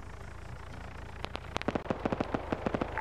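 Small arms and machine gun fire in a video game, heard as distant sharp cracks that begin sparsely and then thicken into a rapid uneven rattle over a low steady rumble.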